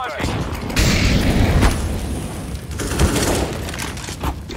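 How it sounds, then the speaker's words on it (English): Flashbang grenade going off in Counter-Strike: Global Offensive, amid a dense, noisy match with bursts of gunfire; a loud bang near the start and another burst later stand out over constant rumble. "Throwing a flashbang."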